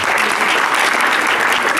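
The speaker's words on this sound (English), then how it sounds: "let us give you a big round of applause" Steady, loud applause from a crowd at a community arts event in Flint, Michigan, a dense wash of clapping that continues through the whole moment.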